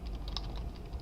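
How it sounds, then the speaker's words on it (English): Quick, light keystrokes tap on a computer keyboard, a brief close burst of uneven clicks over faint room hum. "you can just type it in"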